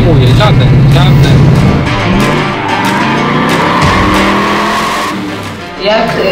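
An American car's tires squeal and skid loudly up close, with the engine revving behind them, while people talk over the noise.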